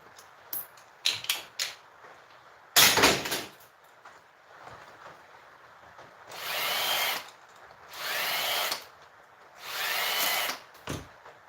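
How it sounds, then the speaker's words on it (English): A Phillips drill in a flickering-lit shed whirs in three separate bursts as it backs out Phillips screws, between sharp clunks and knocks of handling, loud and close with no talk. "See what I mean when I have the Phillips drill?"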